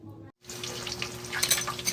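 Food frying in a pan for a home lunch, a steady close sizzle and crackle that starts after a brief silence and grows busier and louder toward the end.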